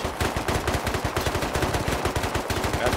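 Loud, rapid gunfire in the video game Rust rattles out in close bursts of continuous automatic shots, with no speech over it.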